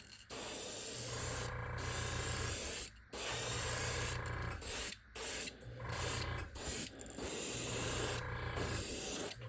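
Spray paint hissing from an aerosol can in several long, steady bursts with short pauses, laying down overlapping color layers for a crackle finish; close and fairly loud, with no talking.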